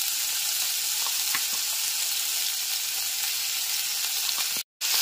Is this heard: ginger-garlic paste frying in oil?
yes